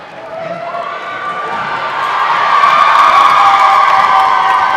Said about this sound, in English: First points on the board for RDL, and the crowd goes wild.